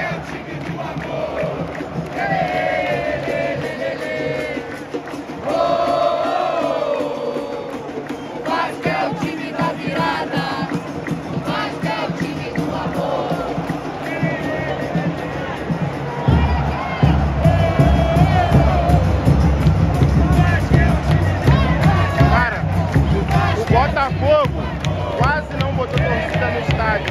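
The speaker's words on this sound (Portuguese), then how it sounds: "A torcida do Vasco tá incentivando agora." Vasco football supporters in a stadium chanting and cheering as a broad crowd roar that swells louder in the later half, with a nearby voice talking over it.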